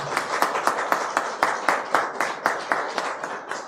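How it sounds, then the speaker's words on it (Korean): Members of a Korean church congregation clap together in a brisk, evenly paced rhythm to welcome newly registered families, with about a dozen distinct claps heard over a few seconds. "뜨거운 환영의 박수 부탁드립니다."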